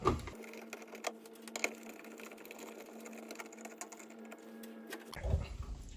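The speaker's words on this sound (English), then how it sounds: "So these top and bottom screws here, take those out." A screwdriver unscrewing the top and bottom screws from a standard household electrical outlet, a steady faint mechanical whir with light ticks and scrapes, close and quiet, ending in a brief clatter.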